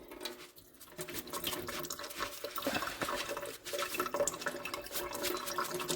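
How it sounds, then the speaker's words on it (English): Water pours and splashes steadily through a colander, a continuous wet rushing with dripping and trickling, close up, as soaked rice is drained. "Now I'm going to drain my rice that's been soaking, and put in this colander"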